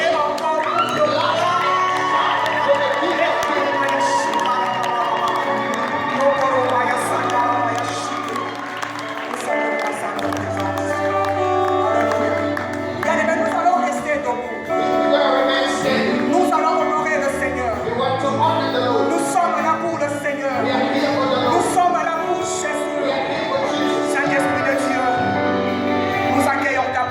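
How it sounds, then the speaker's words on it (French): Church congregation cheering and shouting, a loud sustained crowd roar with whoops and shouts mixed with voices and music throughout. "Est-ce que nous pouvons acclamer et crier encore le roi?"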